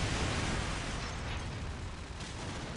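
A grenade blast in a tactical shooter esports match, a broad rumbling boom that stays loud and dense throughout, decaying only slightly, with no voices over it.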